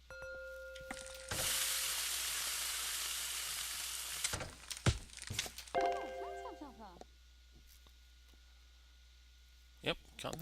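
Pancakes cook in the game Cook, Serve, Delicious: a loud burst of sizzling comes in, then stops, followed by clicks, short chiming game tones and scattered effects as a voice talks over the top.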